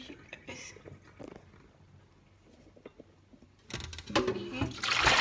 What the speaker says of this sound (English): we are going to drain the water out